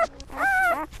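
A six-day-old newborn puppy lets out a loud, close squeal, one brief rising cry that holds steady and then trails off.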